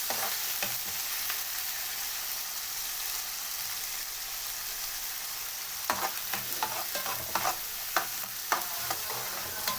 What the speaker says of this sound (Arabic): هقلب معايا كده الكبده، نقلبها بالثومه بقى والحاجات الجميله اللي احنا حطيناها دي.